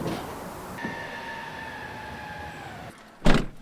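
A delivery truck is loaded outside a charity kitchen in Paris: a steady engine-like hum and faint whine give way to a single sharp, close door slam near the end.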